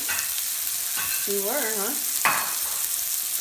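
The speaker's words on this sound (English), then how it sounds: "We're just sauteing some mushrooms right now." Mushrooms sautéing in a pan with a constant crackling sizzle, while people talk briefly over the frying.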